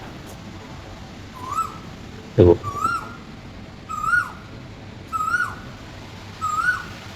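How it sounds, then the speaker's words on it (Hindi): An Asian koel calls outside, repeating its rising whistled note about five times at a steady pace. The calls sit over background hum, and someone speaks briefly between them. "बाहर आपको आवाज़ सुनाऊँ तो कोयल की आवाज़ सुन सकते हो आप"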